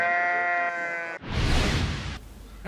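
Sheep at a farming competition: a sustained tonal bleat at the start, a short gap, then a louder noisy burst of bleating and shuffling before fading.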